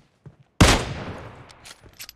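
Gunfire in a video game: one loud, close shot bursts out and decays in a long reverberant tail, preceded and followed by faint smaller clicks and pops.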